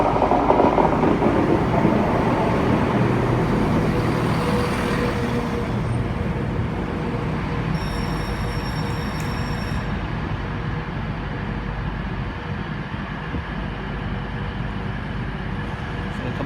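Class 170 Turbostar cross-country diesel unit arriving at Cheltenham Spa station, a steady broad rumble of engine and wheels that stays loud throughout with faint squeal tones partway through.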